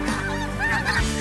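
A flock of spring snow geese honks loudly and close by, a dense overlapping chorus of nasal calls with no talk.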